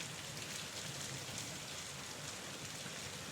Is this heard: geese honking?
no